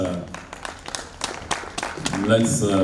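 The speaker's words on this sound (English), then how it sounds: "Please keep clapping for him until he gets here." Audience clapping at a Global Harmony event as the welcome-address speaker is called up, scattered claps building into fuller applause near the end, mixed with a voice speaking over it.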